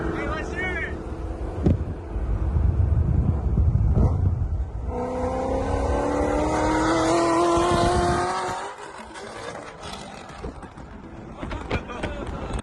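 An old car engine idles and revs, rumbling steadily with a rising whine and some wind buffeting the microphone.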